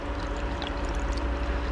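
Dye poured into a pot of plain tap water without citric acid, ready for dyeing a yarn skein: a soft, steady trickle of liquid, fairly faint and close, with no talking.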